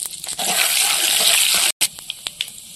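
Panch phoron five-spice tempering dropped into hot oil in a kadai gives a dense, bright sizzle that cuts out abruptly, then returns fainter with scattered pops and crackles.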